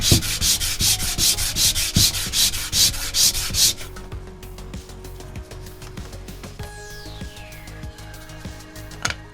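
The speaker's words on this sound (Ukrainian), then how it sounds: "щоб він не забруднював шліфувальну шкурку і не залишав сліди" Sandpaper rubs back and forth on wood in quick rhythmic strokes while shaping kumiko lattice pieces, loud at first, then lighter scraping with a few faint clicks.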